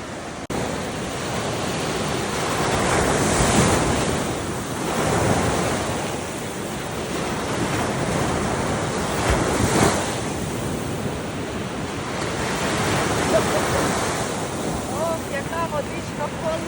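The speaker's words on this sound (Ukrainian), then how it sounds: "Зараз подивимося, яке море." Black Sea waves wash onto a beach at Kurortne, Odesa region, Ukraine, in slow surges, mixed with steady wind buffeting the microphone, continuous and fairly loud.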